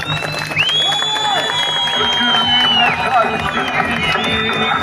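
Crowd at a political rally in Urfa cheering and applauding, with whistles and whoops rising over a dense, steady roar of voices that fills the whole moment.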